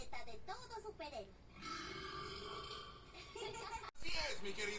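A cartoon character lets out a throaty burp amid animated dialogue, with other voices talking before and after it.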